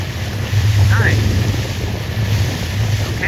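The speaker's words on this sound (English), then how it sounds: "I hope it stays this windy so we can just keep it in heat mode." Strong wind roars and buffets the microphone aboard a 29er racing dinghy at a regatta, a loud continuous gusting rush mixed with water and hull noise.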